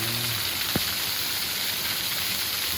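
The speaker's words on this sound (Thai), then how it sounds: "พามาชมน้ำตกสวยงามของ สะพานนางหรือว่าวัดภูเบี้ยน" Steady broadband rush of a waterfall spilling over a cliff at Wat Phu Bian, Ban Na Ang, Thailand, swollen after days of rain; continuous, fairly close and even, with one brief low knock early on.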